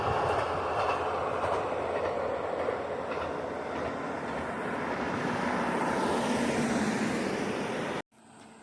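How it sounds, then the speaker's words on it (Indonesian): A single-carriage train rumbles past in the Japanese countryside, loud and steady for about eight seconds, then cuts off abruptly. "Ada kereta lewat lagi nih."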